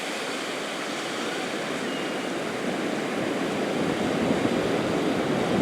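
Ocean surf at a surfing beach in Tofino on Vancouver Island's Pacific Rim, a steady, broad roar of breaking waves that swells slightly louder toward the end, with no voices.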